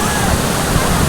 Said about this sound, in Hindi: वो जो लहरें आ रही हैं सामने वो सारी